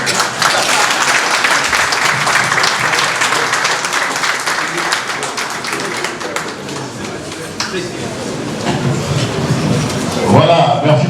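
An audience applauding for an ambassador at a formal reception, dense sustained clapping from many hands filling the room, loud and continuous, with voices mixed in.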